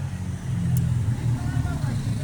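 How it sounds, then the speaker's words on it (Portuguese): A motorcycle passes nearby, a low engine rumble that swells and fades beneath a person talking close by. "Tá passando uma moto ali"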